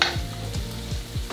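Onions and garlic frying in a pan, a close, steady sizzle with a few stirring scrapes recurring at a regular pace, no voices.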